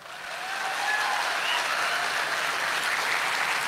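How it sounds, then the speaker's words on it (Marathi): Loud, steady audience applause from a large crowd at a live Marathi comedy show, rising quickly in the first half second and then holding as a dense, continuous wash of clapping with no voices on top. "जोरदार टाळ्या होत्या एकदा आपल्या मायबापासाठी"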